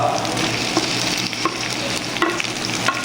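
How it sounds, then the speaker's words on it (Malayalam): Tomatoes frying in a pan with ginger and garlic for a fish and pumpkin curry: a steady, close sizzle with scraping stirs and light clicks throughout, no voices. "തക്കാളി അടുത്തതായി ഇപ്പൊ തക്കാളി ഇട്ടിട്ടോ"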